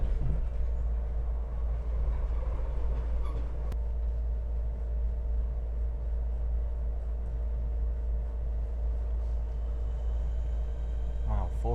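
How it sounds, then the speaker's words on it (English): Low, steady rumble of Class 465 electric trains at Orpington station, a deep continuous drone that holds throughout with a faint brief squeal near the end and no speech. "Here we are in Orpington with loads of 465 trains"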